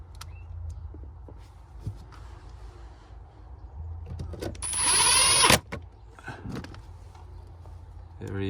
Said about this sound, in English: Good to have power tools.